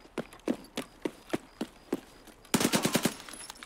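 Rapid gunfire from a video game, a run of evenly spaced sharp shots that breaks into a denser, louder burst near the end, with no talk over it.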